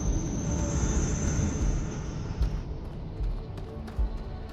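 Spaceship engine blast at a spaceport in the sci-fi game Starfield, a loud, steady roaring rumble sustained throughout, with a few brief thumps near the end.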